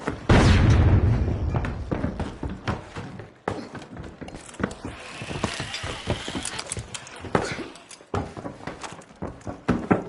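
A loud, close frag grenade blast in the video game The Finals opens the moment, followed by chaotic thumps, clattering impacts and scattered game effects.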